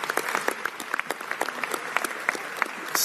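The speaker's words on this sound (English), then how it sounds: "give Tammy a big round of applause for her leadership with Visit Seattle" Audience applause at a governor's bill signing, a brisk round of clapping from a gathered crowd, fairly close and sustained for the full stretch.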